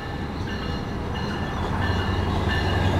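A short three-coach NJ Transit commuter train rolls past at Bradley Beach, New Jersey, with a steady rumbling clatter and faint metallic squeals, the noise growing slightly louder toward the end.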